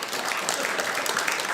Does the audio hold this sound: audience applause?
yes